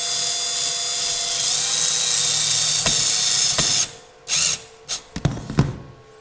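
A power drill whines steadily while boring holes in a wall to mount skirting board, the motor running continuously for a few seconds, then cutting in and out in short bursts.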